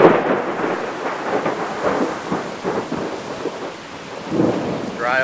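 Sudden thunderstorm downpour in Brighton, Massachusetts: heavy rain roars steadily throughout while deep thunder rumbles loudly and continuously underneath, filling the whole scene.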